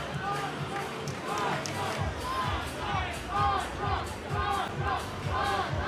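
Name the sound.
crowd chanting at Karate Combat event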